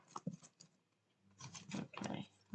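A deck of tarot cards is shuffled by hand, soft papery riffles and rubs in two faint bursts separated by a brief pause, with no talking.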